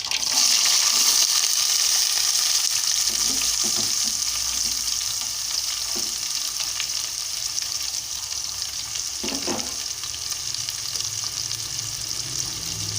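Onions and green chillies fry steadily in a pan for a bean-and-tomato curry, a constant loud sizzle with a few soft stirring scrapes and no talking.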